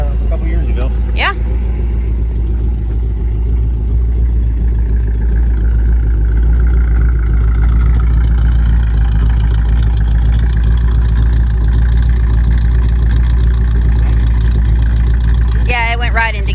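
A 1954 Cadillac engine fitted with an aftermarket one-wire alternator idles steadily and loudly up close, a constant deep rumble throughout, with brief voices near the end.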